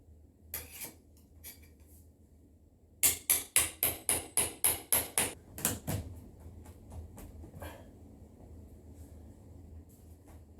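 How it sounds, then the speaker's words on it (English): Prying and hammering a wooden header trim piece off a sunroom window frame, a fast run of about ten sharp knocks followed by scattered creaks and scrapes, close and fairly loud with no talking. "So I got to rip this whole header piece off"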